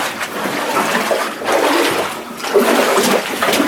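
Water sloshes and splashes in surges as someone wades through a flooded mine passage, close and continuous.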